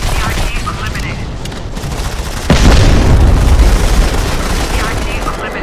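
An enemy bomber airstrike in the Modern Combat 5 shooter game sets off heavy booming explosions amid rattling gunfire, with a big blast landing midway and a rumbling roar after it, while a game voice speaks over the action.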